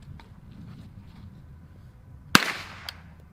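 A single sharp gunshot from a PSR15 rifle after the magazine is seated, one loud close crack with a brief echo tail, alone against quiet background.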